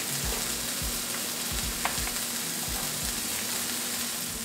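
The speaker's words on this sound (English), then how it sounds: "I start cooking up my burgers" Turkey burgers sizzle and fry in a pan, a steady close crackle with soft scraping and stirring knocks over it, and nobody speaks.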